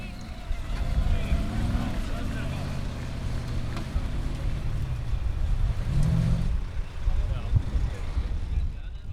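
The Thunderbolt formula offroad car bounces through a river at an Icelandic Formula Offroad event in Hella, producing a loud, continuous engine roar with surging revs and rushing water.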